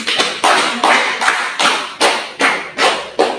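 A small group in a school career guidance session claps together, about nine sharp, evenly spaced claps landing in a steady rhythm, close and fairly loud, with no talking.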